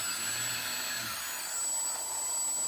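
Small brushless drone motor spinning steadily under throttle after ESC calibration, a continuous high whine that holds evenly for the whole stretch with no voices.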